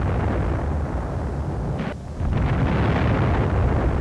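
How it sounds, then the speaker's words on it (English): Wartime artillery shells explode on high ground near tank destroyers in a dense, continuous roar of blasts and rumble with no clear gaps, loud and overwhelming apart from one brief dip. "shells began to rain down on the high ground, indicating that the enemy artillery had found a new target."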